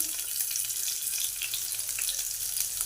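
Chopped garlic frying in oil with black cumin in a pan, a loud continuous hiss and crackle that stays even throughout, with no voices.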